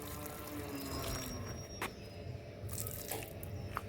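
Water runs from a tap into a vessel to fill water for a household temple shrine, a low steady trickle with a few brief clinks and drips, close by and fairly quiet.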